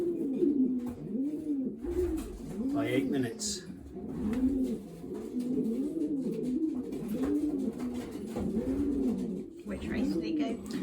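Racing pigeons in a loft, being basketed for races, coo in steady repeated rolling phrases, close and continuous beneath a man's speech.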